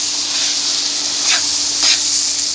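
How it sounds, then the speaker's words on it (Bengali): Vegetables such as eggplant, tomato, Malabar spinach seeds and onion stalks fry with rui fish oil in a pan, giving a steady loud sizzle broken by two short scraping stirs. "এবার আমি ভালোভাবে নেড়ে দিব।"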